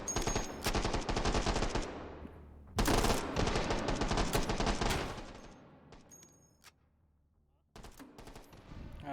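Rapid automatic gunfire from the VR shooter game H3VR rattles in loud bursts, pausing briefly between volleys before trailing off and resuming, with no talk over it.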